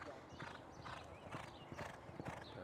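Horses' hooves clip-clop steadily on the backside stable area at Churchill Downs as horses walk past in the morning, faint and a little distant, with a brief whinny and someone talking over them.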